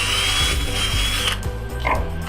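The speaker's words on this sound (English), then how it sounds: "So now I'll just drill my hole," A power drill bores a hole through a homemade jig for positioning cabinet knobs, a loud, steady whirring that runs unbroken for a couple of seconds with no talking.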